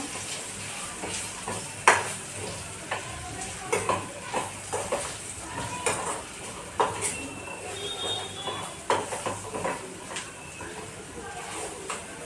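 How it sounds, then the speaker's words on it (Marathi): Spices for masala chapati being roasted in a pan, with a soft continuous sizzle and repeated scraping clinks of a spatula stirring against the pan, close by, with faint voices now and then in the background. "याला छान असं थोडं भाजून परतून घेऊया"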